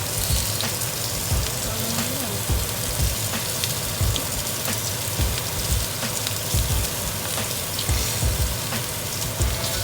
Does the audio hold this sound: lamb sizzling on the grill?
yes